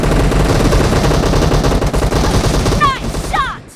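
Sustained automatic gunfire in PUBG Mobile, loud and dense, that fades near the end as short chirping in-game cues sound.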